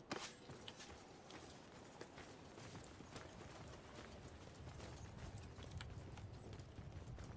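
Horses' hooves clip-clop steadily in the medieval battle game Mount and Blade II: Bannerlord, a busy run of clattering hoofbeats with a rough, noisy field bed and no talk.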